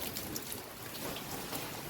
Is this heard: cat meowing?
no